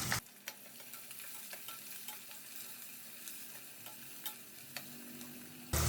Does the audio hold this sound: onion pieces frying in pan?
yes